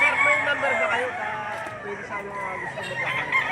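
Several roosters laid out for sale at a poultry market in Laurel, Batangas crow over a dense, steady bed of crowd noise and chatter, with overlapping calls near and far throughout.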